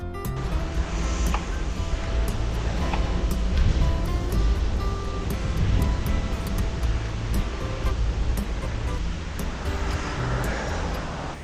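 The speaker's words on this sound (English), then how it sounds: "enjoying the trailhead and the river just flowing next to us" A river flowing beside a cycle trail at the trailhead, a steady broadband rush of moving water that stays loud and continuous throughout, with faint tonal hints of distant traffic mixed in.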